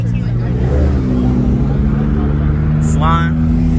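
A Porsche Macan GTS pulls away from a large crowded car meet. Its engine gives a close, steady drone with a slight rise, with crowd chatter and voices mixed in around it.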